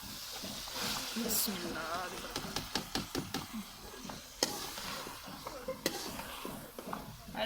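A tadka tempering for dhaba-style dal mash sizzles in hot oil, with sharp crackles and spoon clatter as someone talks over it.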